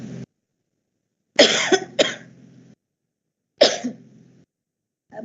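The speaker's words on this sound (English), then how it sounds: "I'm also having a dry cough." Three dry coughs from a person at a live-streamed institute event, two in quick succession and then a single cough, each short and hoarse with no phlegm, heard close and clear against silence.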